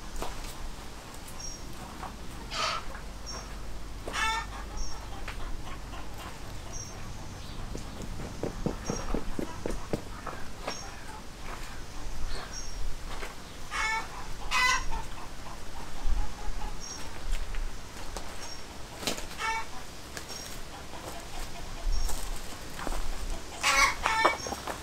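Backyard chickens cluck and murmur close by in a steady scatter of short calls, with occasional sharper squawks and a distant rooster crow, amid faint outdoor ambience and no talk.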